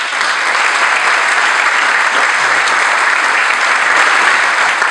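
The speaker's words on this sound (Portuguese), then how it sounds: "peço-vos a todos uma salva de palmas" Audience at a peace concert in Vila Nova de Gaia breaks into loud, sustained applause, a dense even wash of clapping from a large crowd lasting throughout.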